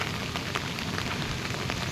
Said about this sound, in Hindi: तो बारिश लग रही है।